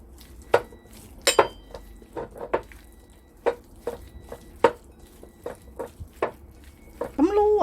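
Sliced pork being mixed by hand with cornstarch in a bowl, giving irregular soft squishes and light taps against the dish, with a utensil scrape near the end.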